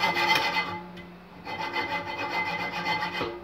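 Blade rasping back and forth through a wooden fill strip for a guitar truss rod, steady scraping strokes close up with a brief pause before cutting resumes, no talk.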